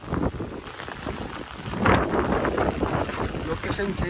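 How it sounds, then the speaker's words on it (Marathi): Heavy rain pours steadily outdoors with a dense continuous hiss, gusty wind buffeting close by, and voices talking over it. "खूपच पाऊस आहे"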